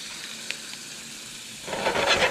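Butter hits a hot pan for channel catfish, starting as a faint hiss and swelling into a brighter, louder sizzle near the end.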